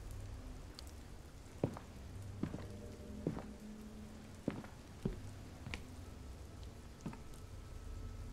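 Rain falls in the horror video game Fears to Fathom, with a soft steady patter and scattered sharper drops and knocks at irregular intervals.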